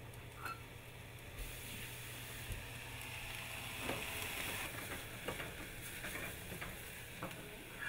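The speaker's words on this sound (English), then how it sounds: "Saute it. Pick up the heat till it gets a little bit crackly." Quinoa sautéing with garlic, onion and olive oil over rising heat gives a faint, steady sizzle with light crackles and occasional stirring scrapes throughout.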